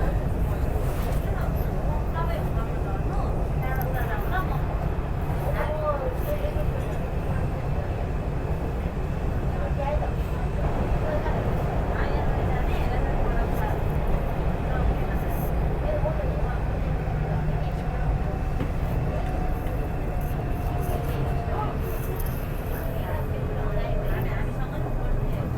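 MTR East Rail Line R-Train running fast between Tai Wai and the harbour tunnel, a steady loud broadband rumble and rail roar continuing unbroken with faint squeals over it.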